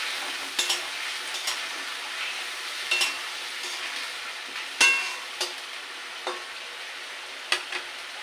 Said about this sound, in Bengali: সেই কারণে মশলা কষানো হবে তার সাথে আলুটা ভাজি হয়ে যাবে